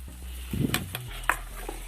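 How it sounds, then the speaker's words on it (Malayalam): Okra and tomato sautéing in a pan, a soft sizzle with a few quick stirring scrapes and clinks of a utensil against the pan. "നമ്മുടെ വെണ്ടയ്ക്കയും തക്കാളിയും എല്ലാം ഈ ഒരു പാകത്തിന് റെഡിയായി വരുന്നവരെ നമ്മൾ വഴട്ടിയെടുക്കണം"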